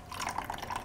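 About a quarter cup of water poured to mix a paste slurry, a short close trickle with small splashy bursts, quiet and without talk.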